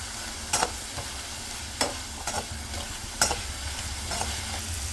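Cucumber pieces sautéing with turmeric in a pan, a low continuous sizzle broken by several separate scrapes of a spoon stirring, close up with no voices.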